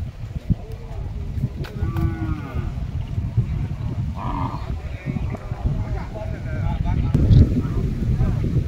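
Calves and cattle low at a busy livestock market, with several moos at close to middle distance over constant crowd chatter and bargaining voices.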